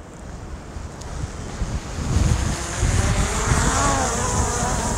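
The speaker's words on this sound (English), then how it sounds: "The wind direction is mostly behind me coming this way." Strong gusty wind buffets the microphone outdoors by water during a Skydio 2 drone take-off, with low rumbling blasts rising and staying loud from the midpoint on, no talk heard.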